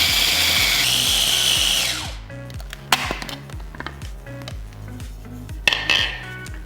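A kitchen blender grinds Khmer red curry paste for chicken curry with a loud, steady whirring whine, then spins down and stops, followed by light clinks and knocks.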